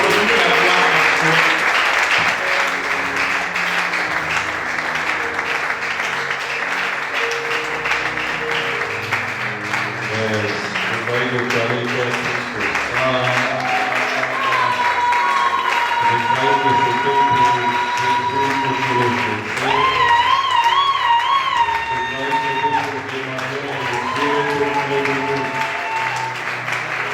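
A church congregation applauds and acclaims in welcome, a loud continuous wash of clapping and voices that lasts throughout, with music or singing tones rising beneath it partway through.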